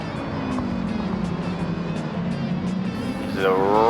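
Racing video game cars, a Mercedes and a Toyota Supra, battle closely for position. A continuous engine roar rises and falls in pitch as the cars shift gears, with a sharper revving note toward the end. A voice talks over the sound.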